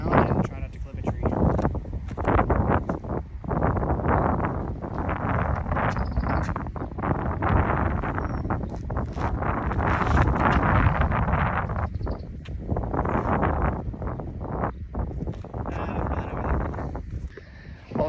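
Gusty wind buffets the microphone outdoors on a wooded disc golf course, rumbling loud and continuous with bursts of rustle, while someone talks intermittently over it.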